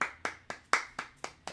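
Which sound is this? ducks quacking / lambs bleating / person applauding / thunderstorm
person applauding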